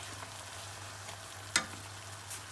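A pan of a tomato-based dish sizzles softly on a lowered flame, a gentle steady frying hiss with one brief sharp clink of a utensil.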